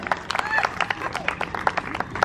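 Several people clap in quick irregular bursts during a party quiz game, the claps close and sharp amid lively chatter and laughing voices.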